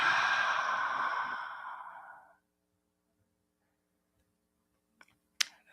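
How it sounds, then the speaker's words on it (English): A deep breath exhaled through the mouth in a guided breathing exercise, a long breathy sigh over about two seconds, then near silence with a couple of faint clicks. "So taking a deep breath in, letting it all go."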